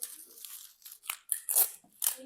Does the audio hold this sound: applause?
no